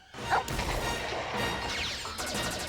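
Lupus the dog from an N64 video game gives a quick bark near the start, followed by crashing and whooshing game effects and background music.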